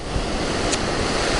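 Ocean surf at a beach washes in a steady broadband roar, loud and continuous with some wind buffeting on the microphone, no voices.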